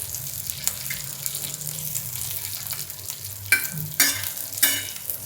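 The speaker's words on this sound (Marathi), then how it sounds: "असं सगळं हे बारीक गॅसवरच हे परतून घ्यायचं" Green chilies and garlic sautéing over a low flame for a dried bombil chutney: a steady soft sizzle runs throughout, broken near the end by a few louder scraping stirs of the spatula in the pan.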